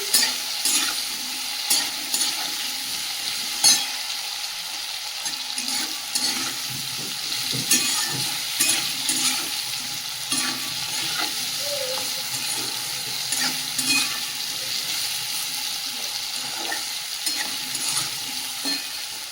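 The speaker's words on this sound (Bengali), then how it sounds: "ওই তেলের মধ্যে আলু লবণ আর হলুদ দিয়ে ভেজে নিচ্ছি" Potatoes with salt and turmeric frying in hot oil, a continuous close sizzle broken by repeated scraping and clacking of a spoon stirring the pan; no talking.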